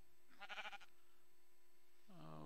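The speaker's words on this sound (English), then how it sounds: "Holy smokes, that is a lot of sheep." Minecraft sheep bleating among a large flock, two short, faint wavering bleats: one near the start and another at the end, separated by a quiet gap with a low steady hum underneath.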